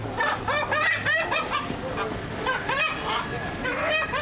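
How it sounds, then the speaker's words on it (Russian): Many chickens and fighting roosters clucking and squawking close by in a busy, continuous din on Shekilango Road, Dar es Salaam, Tanzania, with a faint voice now and then. "Петухи боевые."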